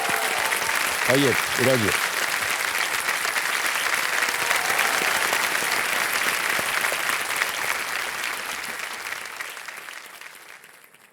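A studio audience on a televised quiz show applauds warmly, a dense continuous ovation with a brief spoken line from the host early on, gradually fading out at the end.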